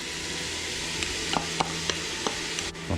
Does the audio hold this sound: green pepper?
yes